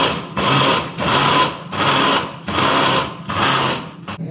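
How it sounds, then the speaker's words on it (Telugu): Mixer grinder run in short pulses grinding green chillies: five loud whirring bursts of about half a second each with brief pauses between, ending in a quick tap. "ఇవి కూడా మిక్సీకి"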